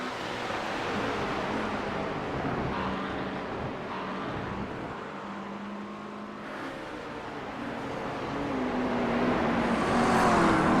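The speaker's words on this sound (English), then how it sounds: "That McLaren has been fast on the Nordschleife all morning long" McLaren GT3 race car at speed on the Nürburgring Nordschleife, a steady engine drone with other traffic around it, rising toward a louder close pass near the end.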